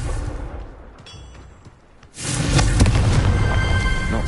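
A fiery Confringo spell blast in Hogwarts Legacy lands with a sudden heavy boom after a quieter lead-in, followed by a sustained roaring rumble that holds loud to the end.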